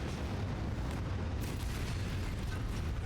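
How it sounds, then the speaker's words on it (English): A nuclear missile torpedo explosion in the video game Anno 2205 produces a dense, sustained roar of blast noise with rumbling low end, loud and continuous for about three seconds with no voices over it. "Nuclear missile torpedo away."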